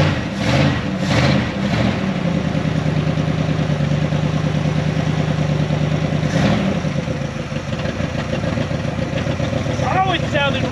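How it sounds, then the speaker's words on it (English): A 41-year-old abandoned Dodge Power Wagon engine runs with a badly leaking, pinched-off exhaust, a loud, continuous rough rumble with clattering, while people talk over it. "Other than that terrible exhaust, super leaky where they pinched it off, the engine sounds super healthy."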